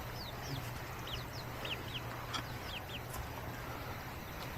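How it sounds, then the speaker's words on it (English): Several chickens cluck and chirp in short rising calls scattered across the scene, moderately distant over a steady background hum. "Some chickens running around."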